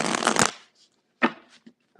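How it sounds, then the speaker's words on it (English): A deck of tarot cards is shuffled up close, a dense burst of riffling followed by a few shorter, softer card flicks and slaps after a pause. "So I'm going to shuffle one more time"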